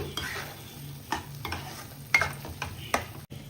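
A paneer butter masala base fries in oil, a low steady sizzle broken by several distinct stirring scrapes and knocks in the pan, fairly quiet and close.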